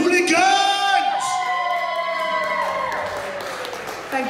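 At an open mic night at The Drill, an audience cheers and applauds a band, with loud whoops and yells riding over continuous clapping that slowly fades.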